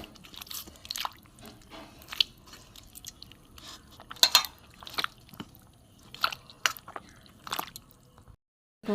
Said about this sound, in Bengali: এটা আমি ধুইব, চটকে চটকে ধুইব, যতক্ষণ না পরিষ্কার জল বেরোয়।